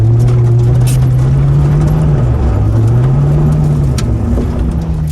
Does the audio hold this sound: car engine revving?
yes